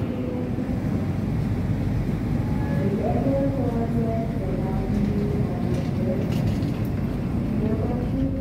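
Kaligung train from Cirebon, a continuous loud low rumble of rail travel heard from aboard a moving train, with brief tonal squeals and clatter midway.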